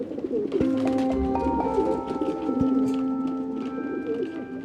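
Pigeons coo in low, resonant, repeated calls that overlap under a sustained tonal backdrop. The birds sound close and steady, with no speech.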